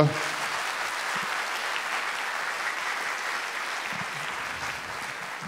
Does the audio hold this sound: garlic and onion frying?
no